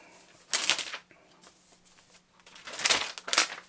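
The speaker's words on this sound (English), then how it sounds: "Now let's unwrap the laptop." Crinkly rustling of packaging as a 2020 Apple Silicon MacBook Pro 13 laptop is unwrapped, in two close bursts separated by a quieter pause with faint handling noises.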